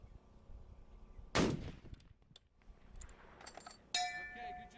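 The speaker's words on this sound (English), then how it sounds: "They're telling me he has one final shot." A single sharp long-range rifle shot at a two-mile shooting competition, one close, loud crack with a brief ringing tail, followed by a faint metallic ring about two and a half seconds later amid quiet outdoor background.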